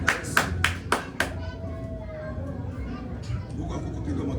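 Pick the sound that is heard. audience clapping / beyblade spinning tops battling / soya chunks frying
audience clapping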